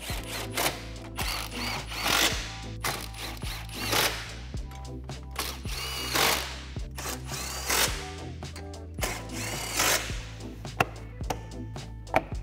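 Power tool, likely an impact driver or drill, backs out 15 mm crash bar bolts on a 2021 Ford Bronco, with repeated short bursts and ratcheting clicks close up, no talking.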